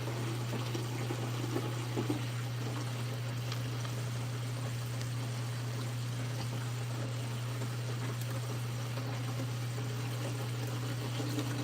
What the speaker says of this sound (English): I can cut this waterfall off